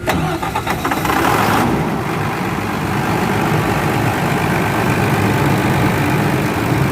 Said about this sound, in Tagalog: So start na namin yung makina.